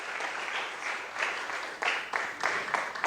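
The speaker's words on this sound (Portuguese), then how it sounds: "Aplauda esse Deus bem forte" Church congregation applauding loudly, a dense burst of many hands clapping that surges in waves over about three seconds, with a voice faintly under it.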